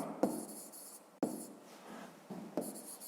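Handwriting during a Ukrainian 5th-grade math lesson on number-line steps: a few short bursts of pen or chalk strokes, close and fairly quiet, separated by small taps and pauses, with no speech over them.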